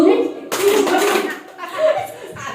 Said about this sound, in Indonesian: Kalau saya bilang two, tepuk dan who-nya 2 kali